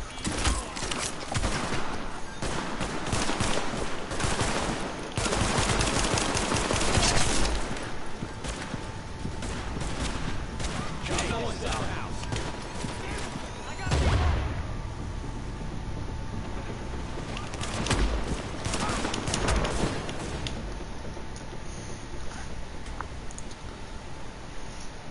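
Clustered bursts of gunfire in a firefight in The Division, sharp crackling volleys and single shots recurring over a noisy ambient bed, loud and close, with faint voices in places.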